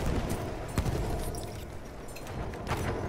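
Rapid suppressive gunfire in a Battlefield video game battle, a dense crackle of shots and impacts at moderate distance with a few sharper nearby reports standing out from the steady barrage.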